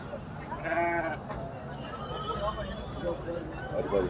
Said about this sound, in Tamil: அதுவும் செம்மறி ஆடுங்களா அதெல்லாம் ரொம்ப பெரிய ஆடுங்க